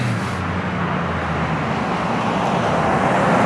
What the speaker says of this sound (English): I got some traffic running back and forth